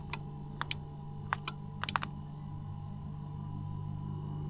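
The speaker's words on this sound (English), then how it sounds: "It's clicking when I hit the button, but nothing's happening." Relay in a van's elevator bed clicks several times in sharp, close bursts, some single and some in quick pairs, while the motors stay silent over a low steady hum.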